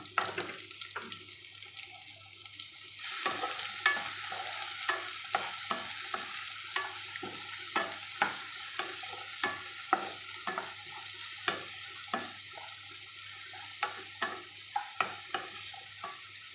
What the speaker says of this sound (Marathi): मला चांगलं भाजून घ्यायचं कांदा लाल सरळ गोल्डन कलर करून भाजून घ्यायचं